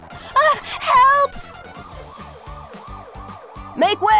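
An ambulance siren wails in repeated rising and falling sweeps, loud and close, in an animated scene. Brief voices break in at the start and end.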